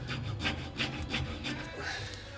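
A hand file rasps repeatedly on the metal of a Speedi sleeve being worked down past its bevel on a 1999-up Ford F350, giving steady, close stroking scrapes at an even rhythm with no talk.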